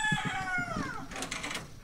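Hens and newly hatched baby chicks on a backyard farm, with a rooster-like crow sweeping down across the opening second followed by scattered clucks and chirps nearby.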